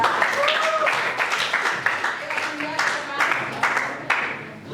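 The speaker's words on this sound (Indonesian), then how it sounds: "Adinda, tepuk tangan buat Adinda." A classroom of students claps for a classmate, scattered uneven hand claps with some voices and chatter mixed in, moderately close and fairly quiet.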